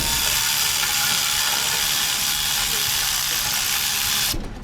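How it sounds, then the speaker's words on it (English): An electric ratchet backs out a bolt near the crankshaft position sensor of a 2012 Hyundai Sonata 2.4L hybrid, giving a loud, continuous close motor whir that stops abruptly at the end. "we can use this electric ratchet to remove that"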